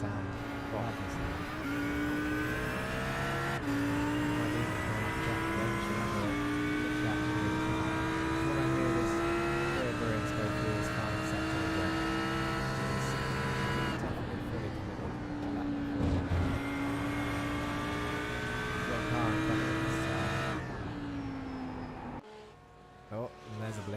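Race cars in an endurance race at Brands Hatch circuit, engines droning and shifting pitch as cars pass, sustained and fairly loud, with a commentator talking over them throughout.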